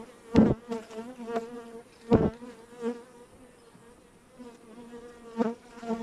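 Caucasian honey bees, breeding stock from Artvin kept in a two-queen hive, buzz steadily and close at the hive, a continuous drone broken by a few sharp knocks.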